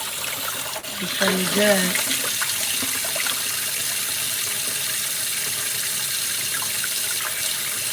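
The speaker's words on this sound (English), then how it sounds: "And you just rinse them off." Black-eyed peas are rinsed under a running kitchen tap, giving a steady close gush of water with brief clattering, while someone speaks over it.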